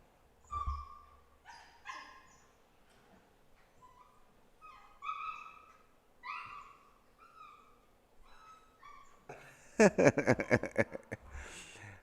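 Dogs indoors bark in scattered single and double yaps with whimpers between, then break into a loud, rapid flurry of barking near the end.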